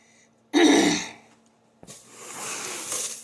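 A single harsh throat-clearing cough bursts out up close, then fades into soft breathy rustling and shuffling.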